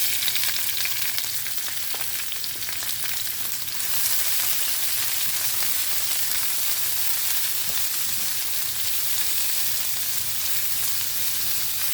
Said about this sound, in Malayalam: പെരിഞ്ചീരകം ഒന്ന് ചൂടായി വരുമ്പോൾ നമുക്കിതിലേക്ക് സവോള ചേർത്ത് കൊടുക്കാം.